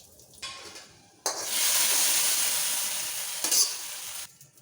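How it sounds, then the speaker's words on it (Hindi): Red chili and fenugreek seeds hit hot oil for a kadhi tempering, bursting into a loud, steady sizzle that holds for several seconds, flares once near the end, then dies down. "तो मैं कढ़ी में लगाऊंगी लाल मिर्च का तड़का।"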